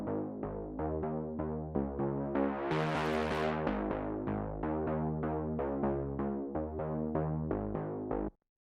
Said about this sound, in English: it's just a pretty basic filtered saw wave bass,